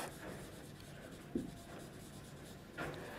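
A teacher writes on a board during a physics lesson, with steady scratching strokes, a sharp tap partway through and another firmer stroke near the end, close and continuous with no talk.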